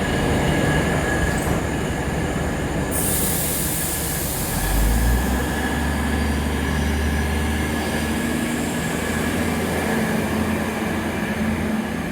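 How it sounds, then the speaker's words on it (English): Hunter Railcar Set J6 pulls away from the single platform at Muswellbrook station, a loud diesel railcar whose engine note deepens and grows as it departs, with continuous wheel and rail noise throughout. "That was Hunter Railcar Set J6 departing from Platform 1, the only platform here at Muswellbrook."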